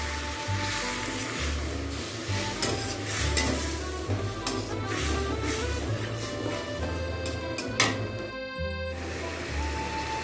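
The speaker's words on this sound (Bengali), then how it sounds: "এবার সামান্য জল দিয়ে দিচ্ছি। জল দিয়ে মশলাটা ভালোভাবে কষে নেব।" Spice paste sizzling in a pan after a little water is added, with continuous frying hiss and scraping stirs throughout, close up with no voices.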